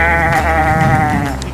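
A sheep in Ireland gives one loud, sustained bleat close by, tapering off after about a second and a half.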